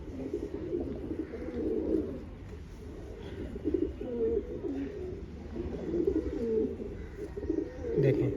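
A pigeon coos in soft, low, rolling phrases repeated several times, close by against a quiet background.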